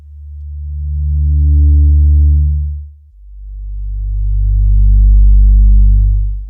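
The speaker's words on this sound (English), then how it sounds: "I do like the sound of my Sine Plus bass, which I made myself." Deep, smooth software synthesizer sine bass notes, two long sustained tones swelling and fading with a brief gap between them, played alone.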